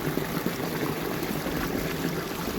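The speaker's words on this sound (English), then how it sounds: "once it stops gurgling you'll hear that sort of like running a bath" Pond water feature in an echo chamber, a steady gurgling, rushing flow like a bath filling, close and continuous with no break.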